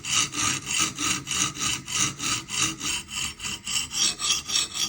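A Spyderco Magnamax knife blade is drawn over a coarse sharpening stone in about fifteen steady, evenly spaced rasping strokes, close and fairly loud, with no talk.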